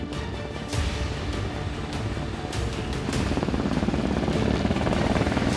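A Blackhawk helicopter comes in to land in palace grounds, its rotor thumping and its turbine roaring steadily, with the sound growing slightly louder and fuller as it nears.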